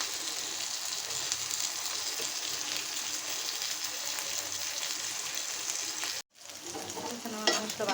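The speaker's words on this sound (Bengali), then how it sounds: "এখানে আমার মাংসটা ভাজা হয়ে গেছে" Chicken meat fries and is stirred in a pan with a loud, continuous close sizzle that briefly cuts out near the end, then resumes with scraping stirs.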